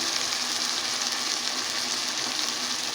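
Chopped tomatoes frying with spices in a pot for beef biryani, a dense, even sizzle held steadily and close with no voices.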